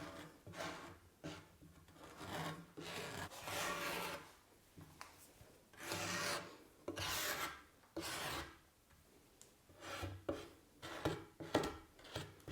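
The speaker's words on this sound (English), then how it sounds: "So I'll use my rib at an angle and I'll just kind of shave off" A rib held at an angle scrapes and shaves the sharp edge off a plaster bat in repeated rasping strokes, each lasting roughly a second with short pauses in between. The scraping is close and fairly quiet, and no one talks.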